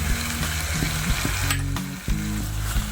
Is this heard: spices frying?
yes